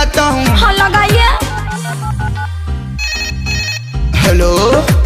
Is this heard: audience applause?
no